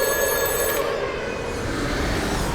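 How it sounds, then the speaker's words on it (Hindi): A telephone ringing steadily, its bright electronic trill continuous and fairly loud over a low background hum. "लाला फोन उठाओ, उठाओ, उठाओ"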